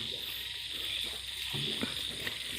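Hybrid frogs croaking at a frog-breeding farm, a dense continuous chorus with scattered nearer croaks and insect-like chirring, moderately loud and alone.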